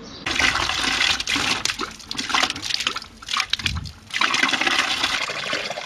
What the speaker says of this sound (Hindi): आप इतना गंदा पानी क्यों भर रहे हो?